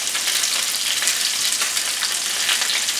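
Salmon fillets fry skin-side down in a skillet, giving a loud, close, continuous crackling sizzle that holds steady throughout.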